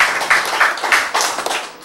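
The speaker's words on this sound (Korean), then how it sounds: "와, 박수." An audience at a health lecture claps together in a quick, even burst of about half a dozen beats, loud and close.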